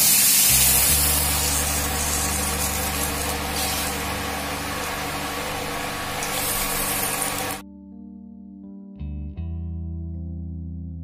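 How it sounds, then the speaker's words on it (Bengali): Dal poured into very hot oil with turmeric bursts into a loud, continuous sizzling hiss that holds steady, then cuts off abruptly near the end, leaving a low steady hum. No one speaks. "এবার ডালটা ঢেলে দেবো।"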